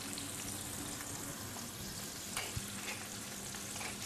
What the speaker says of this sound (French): Nous mettons à cuire côté peau face à la poêle.